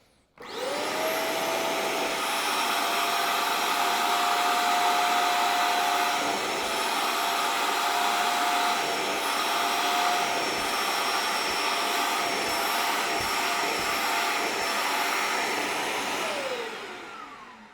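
Hoover CleanSlate XL spot cleaner suctioning a crayon stain, a loud steady motor whine with a high tone that holds for about sixteen seconds before winding down, heard alone with no talk.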